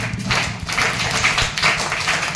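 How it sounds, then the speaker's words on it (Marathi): Children clap for a child in a group of young learners, giving a few seconds of loose, uneven applause in bursts, close by. "टाळ्या वाजवा त्याच्यासाठी"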